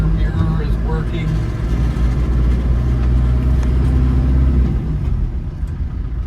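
A 1991 Land Rover Defender 90 with a 200Tdi diesel engine running at idle, giving a loud, steady low rumble that stays close and even throughout.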